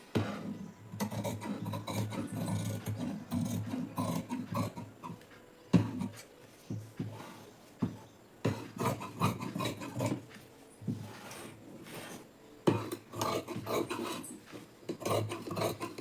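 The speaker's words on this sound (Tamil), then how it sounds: "இப்போ இதை வந்து நம்ம கட் பண்ணி எடுத்துடலாம்" Scissors cutting blouse fabric on a tailoring table, measured against an existing blouse, making repeated rasping, scraping snips close by, in uneven bursts with short pauses and no talking.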